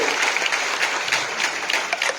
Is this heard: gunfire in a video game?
no